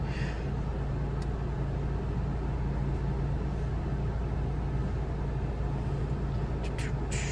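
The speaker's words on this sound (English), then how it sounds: "Hopefully the air conditioner isn't too loud for you guys" Air conditioning blows inside a 2023 Acura Integra A-Spec, a loud steady broadband whoosh with a low hum underneath that holds unchanged throughout.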